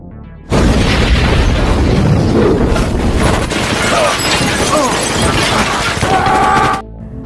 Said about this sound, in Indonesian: tiba-tiba mobil Chris meledak, kemudian disusul tembakan dari anak buah Milton.